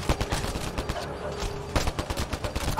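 Rapid gunfire in Mass Effect Andromeda, a loud, steady stream of close automatic shots with a brief lull midway before firing resumes.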